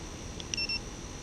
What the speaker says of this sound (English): so you get 2 beeps and then 1 flash, indicating that it is turned on